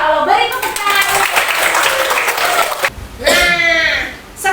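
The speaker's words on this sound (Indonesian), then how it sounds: "Masya Allah, beri tepuk tangan." A classroom of students claps their hands together in a busy burst, with children's voices and chatter mixed in, then a brief pause before more clapping and calling resumes.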